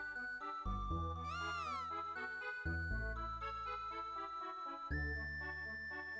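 A cat meows repeatedly in Chrono Trigger during a celebration parade, bright game-style mews sitting over cheerful looping music with tinkling melodic tones.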